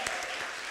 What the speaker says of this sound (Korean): 영광의 박수로 시작해 볼까요?